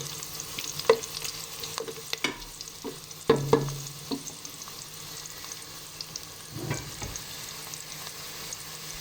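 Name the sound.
sautéing garlic, onion and ginger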